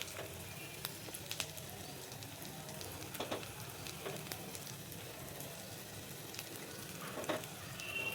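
A broccoli omelette with capsicum and onion fries in oil in a pan, a soft, steady sizzle with small crackles and pops, fairly quiet and close, with no talking.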